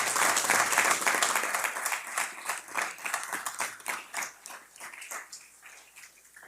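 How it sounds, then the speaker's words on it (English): Audience applauds the Planning, Development, and Transportation team during a county executive budget presentation: full clapping at first, then thinning into scattered, uneven individual claps as it dies away. "Please give a big round of applause to our team at the Planning,"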